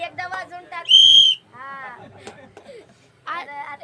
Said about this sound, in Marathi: शिट्टी भाऊची शिट्टी एकदा वाजवून टाक